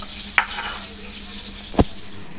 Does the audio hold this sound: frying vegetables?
yes